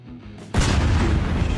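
A bomb explodes in the Garry's Mod video game, a sudden loud boom after brief quiet that leaves a broad, rumbling roar sustained to the end.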